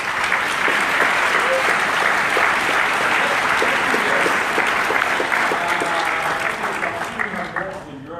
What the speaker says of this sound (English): can we give them a round of applause first of all?